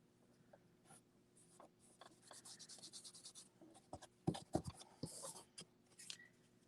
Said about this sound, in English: Again, I'm going to burnish it for you guys.